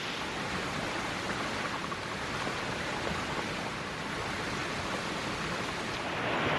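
Lewis Prong Creek runs beside a campsite on the Ozark Highlands Trail, a steady, full rushing of water that stays loud and unbroken throughout, with no voices.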